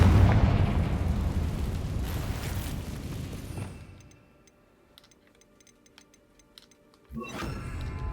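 A fiery Confringo spell from a video game explodes in a loud, broad blast that rumbles and fades over a few seconds, then gives way to quieter game ambience before another burst of noise returns.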